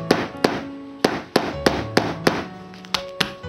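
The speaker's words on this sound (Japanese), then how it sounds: "金槌か木槌で固まっているところを叩きます。" Hammer or mallet striking a hardened, dried-out paint tube, about ten sharp, close knocks at an uneven rhythm, each short and crisp, with no talk.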